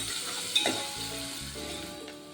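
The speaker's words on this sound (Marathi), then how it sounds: "एक मिडियम साईजचा कांदा घालते आपण छान पोळून घेऊया" A medium onion frying in a pan with asafoetida, giving a steady, gentle sizzle close by with a faint clink near the start.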